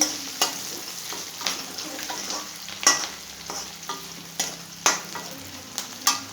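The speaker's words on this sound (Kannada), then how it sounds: "ನೋಡಿ, ಈರುಳ್ಳಿ ಫ್ರೈ ಆಗಲಿ, ಸ್ವಲ್ಪ ಕಲರ್ ಬರಲಿ." Onions frying in a pan of hot oil during tempering for a side dish, with a steady crackling sizzle and repeated sharp scrapes and clinks of stirring at an irregular rhythm.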